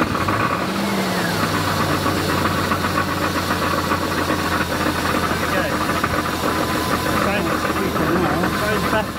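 Jeep XJ with a 1990 Renix 4.0 engine at startup, knocking from the flex plate: a loud, steady engine run with a rapid metallic knock repeating throughout, close up and without talk.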